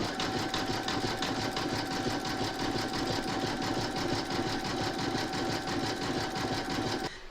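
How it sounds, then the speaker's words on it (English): An embroidery sewing machine stitching a decorative satin stitch border on a hooped door tag, a steady, rapid mechanical chatter with a faint whine running loud and close, stopping just at the end. "you're going to stitch round number 13, and that's going to do the decorative satin stitch border around the edge"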